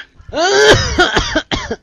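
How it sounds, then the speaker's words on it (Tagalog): A person coughs on request during a doctor's check-up, a few short, close, loud coughs in quick succession with a rasping throaty quality. "Umubo ka. Ubo pa."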